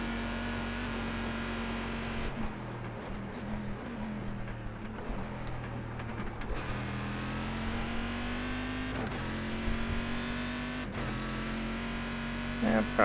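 A Chevrolet Corvette C6.R GT1 race car engine held at a steady high drone through the whole stretch, pitch shifting slightly as gears change, with a faint voice over the top.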